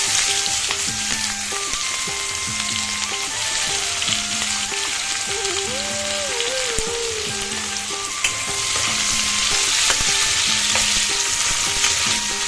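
Chopped onions and whole garam masala spices fry in a pan, with a continuous close sizzle and repeated scraping as they are stirred.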